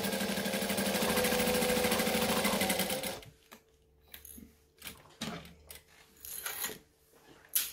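A sewing machine back stitches with the needle down on a knit fabric project, opening with a loud, fast, steady whir of stitching for about three seconds, followed by scattered quieter clicks and clunks of the mechanism.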